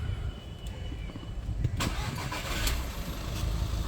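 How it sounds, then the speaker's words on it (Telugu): A 2013 Volkswagen Vento Highline TDI diesel starts on a single crank. The short starter whir catches quickly and settles into a close, throaty running rumble. "ఒకసారి ఇంజన్ స్టార్ట్ చేద్దాం"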